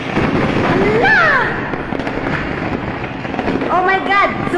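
Fireworks going off in a burning fireworks shop at a market: whistling, rising and falling shrieks burst out close and loud amid steady crackling, with people exclaiming over the din.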